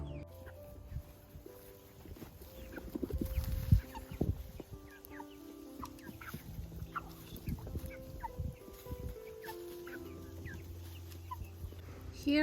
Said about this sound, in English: I'm going to go put my chickens in.